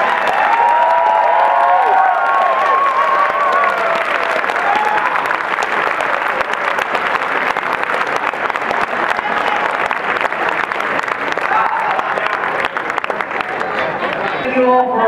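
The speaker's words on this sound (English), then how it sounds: "Let's have one more round of applause for our 3x3x3 Rubik's Cube champion." Sustained loud audience applause with cheering and crowd shouts at the World Rubik's Cube Championship 2013, honoring the 3x3x3 champion, steady and dense throughout the whole stretch.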